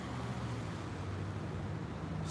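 A truck turning at a street intersection, a low steady engine rumble with broadband road noise, fairly faint and distant, with no talk over it.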